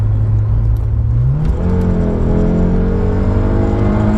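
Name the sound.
Peugeot 106 GTI engine revving while accelerating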